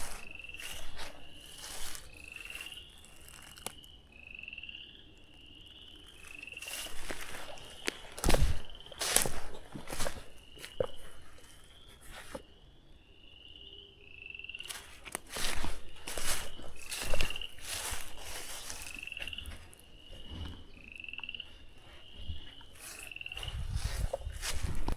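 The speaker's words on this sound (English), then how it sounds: "A bunch of frogs." A chorus of frogs croaks in repeated chirping calls around a wooded valley on North Carolina gameland, steady and moderately distant, mixed with crunching footsteps and rustling from someone walking.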